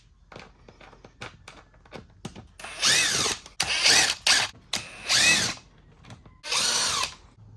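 A cordless power drill runs in several short bursts and longer whirring pulls while backing Phillips head screws out of the air box on a 2021 Honda CB650R motorcycle, close and loud, with small clicks between the runs.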